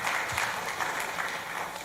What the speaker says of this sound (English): I would request the audience to give a big round of applause